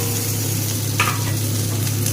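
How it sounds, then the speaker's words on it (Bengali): Green chilli and tomato fry in spice masala in a pan, giving a steady close sizzle with a soft stirring scrape partway through. "দিয়ে ভালো করে মশলাটাকে আবারও ভাজবো একটু"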